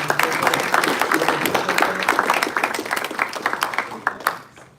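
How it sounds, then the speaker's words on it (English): A banquet audience at a 2024 post-graduate banquet gives a round of applause for the servers and kitchen staff: dense, lively clapping from many hands, close and steady, then tapering off near the end. "let's have a nice round of applause for the servers and people preparing"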